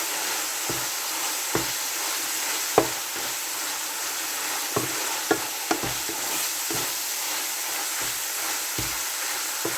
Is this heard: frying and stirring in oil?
yes